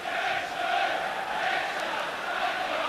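Football crowd at an Arsenal v Tottenham Division One match in 1987-88, a steady dense roar of voices throughout with no single shouts standing out.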